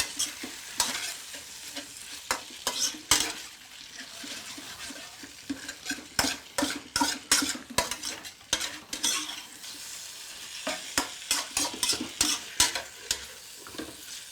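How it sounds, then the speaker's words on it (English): Mongolian beef stir-fries in a hot wok, a steady sizzle broken by repeated scraping clacks of a spatula against the metal, close and fairly loud with no voices. "when you stir fry, you're basically as good as how hot your wok is"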